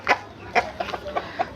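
Jambu hens cluck close by in about five short, separate bursts, spaced unevenly across a second and a half.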